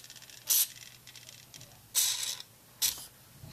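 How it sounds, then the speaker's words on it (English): Three short hissing bursts of aerosol contact cleaner sprayed close up into a DJ mixer's crossfader, separated by quiet pauses in an otherwise still room. "Now, I normally do one more spray in there."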